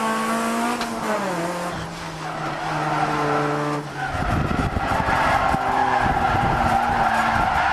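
A Honda Prelude drifts uphill on a winding mountain road, engine whining through rising gears before the tires break into a long, loud, continuous skid and squeal with roaring revs.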